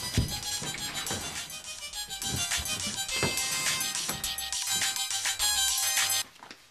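A phone ringtone plays steadily for several seconds at moderate volume, a repeating electronic melody with no one talking over it, then cuts off near the end.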